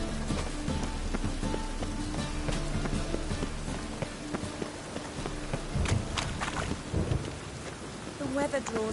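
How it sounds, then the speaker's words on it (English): Steady rain pours in a video game, with low thunder rumbling beneath it. The rain keeps a dense, even hiss throughout, and there are occasional brief louder bursts near the end. "Ah! Rain."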